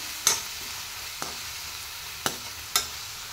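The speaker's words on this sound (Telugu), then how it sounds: "కొంచెం రెడ్గా వచ్చే వరకు ఆనియన్స్ ఫ్రై చేయాలి." Onions deep-fry in hot oil with a steady soft sizzle, broken by a few sharp clicks of a spoon stirring the pan, close and moderate in volume, with no talking.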